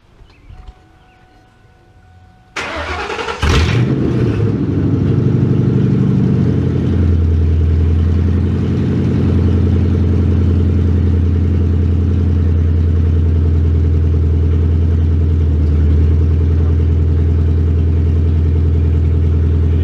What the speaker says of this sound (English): we're going to do first fire up with open tubes here